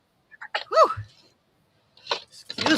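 A single short sneeze from a person at close range, alone, with brief talk on either side of it.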